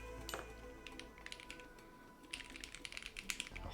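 Fast, crisp clicky typing on a mechanical keyboard with Cherry MX Blue switches, a dense run of close keystrokes with a brief lull midway.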